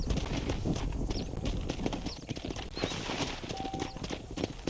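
Horse hooves in the Red Dead Redemption video game, clip-clopping in a steady galloping rhythm close up and fairly loud, with faint game ambience and no talk over them.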